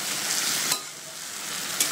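Spices sauté in a pan for a milky Bengali shukto, giving a steady close sizzle with two sharp scrapes or clicks of a spoon against the pan. Nobody speaks.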